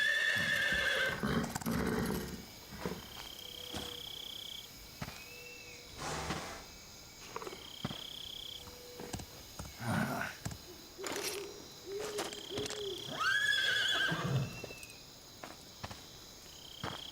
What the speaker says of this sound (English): Um cavalo relinchando ali.